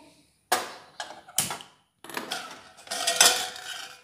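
A metal kadhai (wok) is lifted out and set down in a home kitchen, giving several sharp clanks and scraping clatters in quick succession, close and fairly loud.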